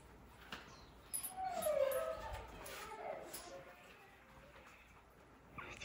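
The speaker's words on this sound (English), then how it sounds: "Y'all can hear our other dogs whining because they know." Dogs indoors whine and whimper with high, wavering cries, fairly faint and intermittent, while people talk nearby.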